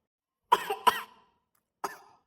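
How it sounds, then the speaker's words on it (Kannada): A cartoon character coughs, two quick harsh coughs close together followed by a third after a short pause, near and fairly quiet. "ಈ ಹಾಳಾದ ಕೆಮ್ಮು ಒಂದು ಅಳತಿ ಹತ್ತಿ ಬಿಡೈತೆ ನೋಡು ಒಂದು ಮಧ್ಯಾಹ್ನದಿಂದ"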